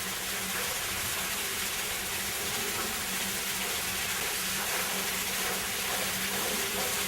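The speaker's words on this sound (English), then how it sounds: "It's discharged through the head box onto the water wheel, and the water is discharged into the tail race" Water from Pickering Creek pours through a head box onto the mill water wheel at Anselma, heard as a steady, close, full-band rushing gush that continues unbroken throughout without speech.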